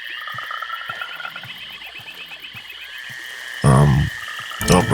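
Toad croaking in the fantasy RPG Evil Islands during a dusk fight, heard as a few loud, throaty bursts over a steady game ambience and music.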